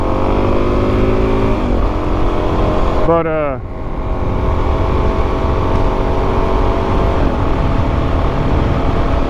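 Suzuki DRZ400S motorcycle engine droning steadily while riding on a road trip, with wind noise and a brief gear change or throttle dip partway through; someone speaks a word over the constant engine hum.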